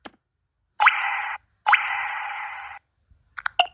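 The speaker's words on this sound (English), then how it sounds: "Water drop SMS" A water drop SMS ringtone plays twice, each a short liquid plop followed by a sustained bright tone, then a few quick droplet blips close at the end.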